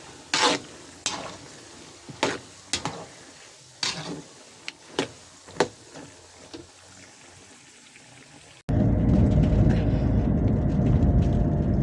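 Peanuts fry with chili and garlic in a pan while a utensil scrapes and stirs them in sharp, irregular clacks. Near the end a loud, steady sizzle takes over up close.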